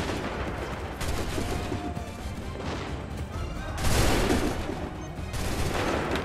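Volleys of musket gunfire ring out in a colonial-era battle in Assassin's Creed III, sustained crackling fusillades with a louder burst midway, steady and close throughout.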